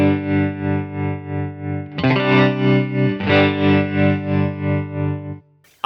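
Electric guitar through a tremolo effect on a Line 6 Helix patch, sustained distorted chords pulsing in a steady, even volume wobble, loud and alone, with a chord change partway and an abrupt stop.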